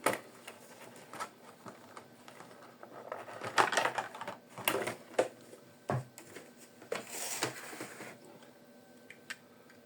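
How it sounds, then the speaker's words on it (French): A 1/43 scale model car, a Mustang 69 Modified, is unboxed up close, with scattered crinkles, taps and rustles of packaging in irregular bursts. "Je vais déballer la deuxième pendant ce temps."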